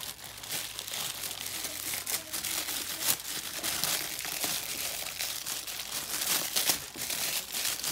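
A young child tears open and crinkles the plastic packaging of a Nintendo Switch case, producing continuous close, loud crumpling and ripping with no pause.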